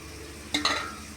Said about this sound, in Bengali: কড়াইশুঁটিটাও একটুখানি সাথে ভাজা ভাজা হয়ে যাবে।